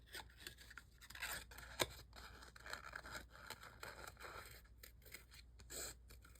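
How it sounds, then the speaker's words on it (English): Scissors snip repeatedly through paper at close range, with crisp cuts and light scraping in an uneven rhythm, no voices. "So I'm kind of just moving the paper back and forth as I'm cutting."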